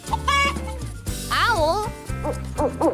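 A chicken clucking in a short children's animal-sound sequence, with a few bright, rising-and-falling calls over steady background music.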